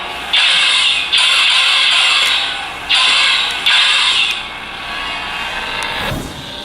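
An Electrum Saber Craft battle-scarred remnant lightsaber in blaster mode fires a series of loud, bright electronic bursts, four or five distinct blasts with short gaps between them, ending in a softer fading tone.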